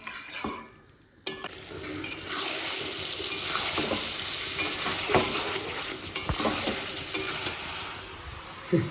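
Mutton sautés under a cover in a wok for a pot-roasted Bengali curry made with burnt spices, giving a steady loud sizzle and frying hiss with occasional stirring scrapes and clinks, and no talk.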